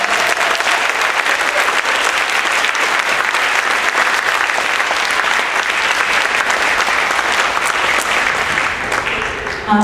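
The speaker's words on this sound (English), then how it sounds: "We have a round of applause for all of our performers tonight." An audience gives performers at an evening show a loud, dense round of applause that holds steady throughout, close and continuous with no pauses.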